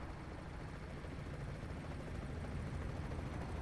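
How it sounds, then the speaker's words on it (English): Helicopters thud over a river in Euro Truck Simulator 2, a dense steady rotor rumble that holds evenly throughout with no voices on top. "I believe there's choppers out on the edge and out of the middle of the river too"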